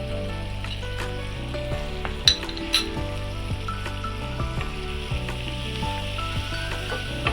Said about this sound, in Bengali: এগুলোকে ভালো করে নেড়ে চেড়ে নিতে হবে।